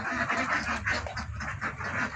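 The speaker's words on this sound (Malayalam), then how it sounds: "ഇപ്പോൾ നിലവിൽ നമ്മളെ കുട്ടനാടൻ താറാവുകൾ എടുക്കുന്നതാണ്." Kuttanad ducks quacking in a steady chorus of overlapping calls from a flock of around two hundred birds kept for sale, close and continuous throughout.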